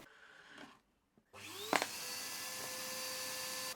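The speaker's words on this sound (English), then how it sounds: "After the first round of hoovering" A hoover with a Lucozade bottle gaffer-taped to its nozzle switches on after a short silence and settles into a steady, close whining drone, used on a Panasonic Lumix LX100 camera to clear sensor dust.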